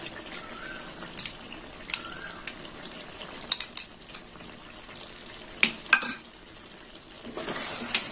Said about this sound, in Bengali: আর একটু নেড়ে ছেড়ে নেবো।